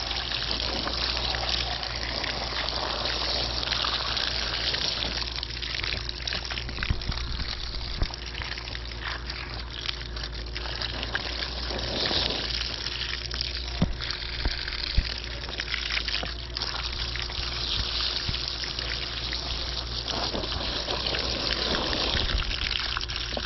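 Water gushes from a hose rinsing out the filter of an automatic three-motor pool cleaner outdoors, a steady close spray with small shifting splashes throughout and no voices.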